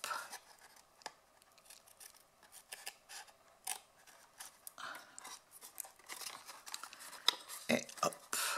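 Scissors snip away the excess from a box lid in a series of crisp, close cuts, uneven in rhythm with short gaps, and the pace quickens toward the end.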